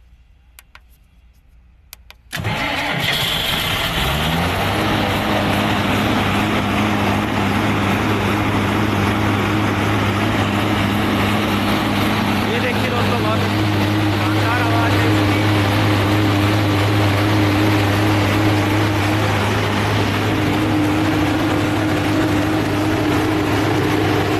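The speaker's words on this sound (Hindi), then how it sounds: "एक बार दोस्तों मैं आपको जनरेटर स्टार्ट करके दिखाता हूँ" Jackson Cummins CJ125D5P 125 kW turbocharged diesel generator: a few faint clicks, then the engine starts abruptly and settles into a loud, steady close rumble with a constant hum and fine ticking for over twenty seconds.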